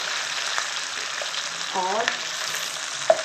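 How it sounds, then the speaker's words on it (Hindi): Onion and capsicum fry with garlic in a pan for chicken manchurian gravy, a continuous close sizzle broken by spatula scrapes and one sharp clink, while someone speaks briefly over it. "इसके साथ ही मैं डाल दूँगी अनियन, इसे हल्का सा करूँगी, और इसके साथ मैं शिमला मिर्च भी डाल दूँगी"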